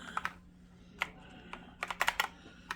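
Keys clacking on a Dareu wireless ergonomic mechanical keyboard, scattered close clicks then a quick burst of typing, crisp and fairly quiet with no voices.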